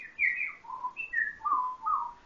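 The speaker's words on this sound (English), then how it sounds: "Lulu sits for a moment listening to the singing sparrows and the squawking blue jays." Sparrows sing alone in a short run of clear, bright whistled chirps and warbling phrases, six or so notes rising and falling in quick succession, close and moderately loud; no squawking jays stand out.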